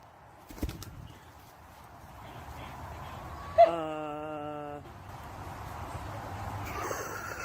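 A pigeon that had been nursed back to health is heard from a played recording: a sudden burst of wing flaps and a short sustained coo or call, then quieter flutter, over low background noise.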